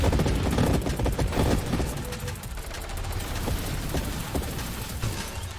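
Minigun fire rattles in the space shooter game Nova Drift, dense rapid bursts of shots crackling loudly over a busy backdrop of explosions and effects.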